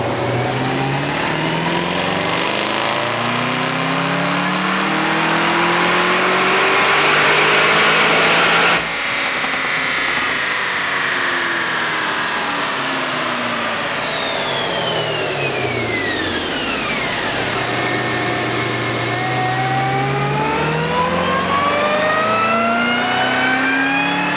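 Twin-turbo Camaro engine revving on a dyno with the rev limiter raised past 5,500 rpm: a loud, close, continuous roar that climbs steadily in pitch, breaks off briefly, then rises and falls again with whining harmonics.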